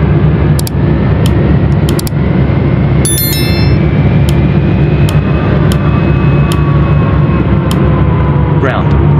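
Boeing airliner engines starting up in Real Flight Simulator, with a loud, steady engine roar and rising whine holding throughout, and brief radio-like clicks and tones cutting in.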